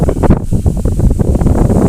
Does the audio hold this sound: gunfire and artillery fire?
no